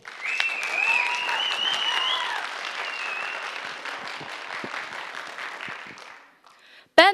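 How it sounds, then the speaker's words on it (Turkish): Strong audience applause fills a debate hall as a speaker is called to the stage, sustained clapping for about six seconds before fading out, followed by a brief loud burst at the end. "Kuvvetli alkışlarınızla Betül Uğurlu."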